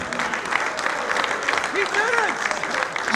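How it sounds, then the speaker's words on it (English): Audience applause at a cricket awards ceremony on finals day of the Club World Series in Dubai, steady clapping from a crowd filling the short span, with a voice speaking over it. "Come on guys, a round of applause."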